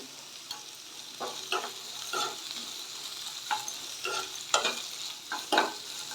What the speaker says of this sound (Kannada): ಇವಾಗ ಇದಕ್ಕೆ ಒಂದು ಸ್ವಲ್ಪ ಕರ್ಬೇವನ್ನ ಹಾಕೋತಾ ಇದ್ದೀನಿ